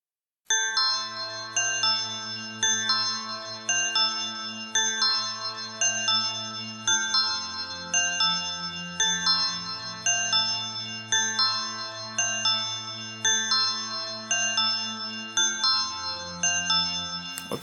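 A Sytrus ballerina bell preset plays a bright, chiming melody, its repeated tinkling notes ringing over a soft sustained tone, with no voices.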